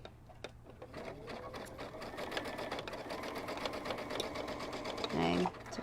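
A sewing machine zigzag-stitches a kimono robe seam, a close continuous rapid whir with fine needle ticking and a brief louder burst near the end, while a person talks over it.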